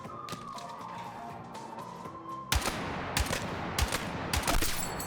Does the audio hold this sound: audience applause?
no